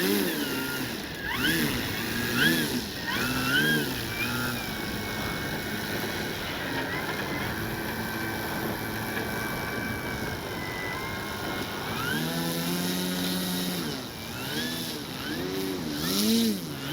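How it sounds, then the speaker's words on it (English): A Hangar 9 J-3 Cub 10cc RC plane's gas motor running outdoors, its buzzing drone rising and falling in pitch as the throttle changes, fairly close and continuous. "Motor is on."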